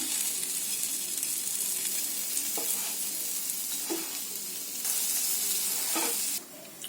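Paneer sandwich frying in butter on a pan, giving a steady close sizzle with occasional scraping and stirring bursts, and no talking.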